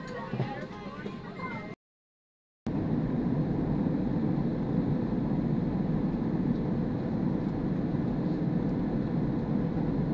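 Steady, loud cabin roar fills a Cebu Pacific airliner in flight, interrupted by a brief dropout before the drone resumes.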